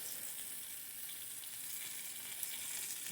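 Food frying in a shallow amount of oil in a pan, a soft, continuous sizzle and crackle heard steadily throughout with no voices.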